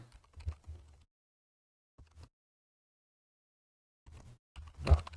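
Computer keyboard typing code in short bursts: a quick cluster of close keystrokes, a lone pair, a long pause, then another flurry ending in a firmer key press.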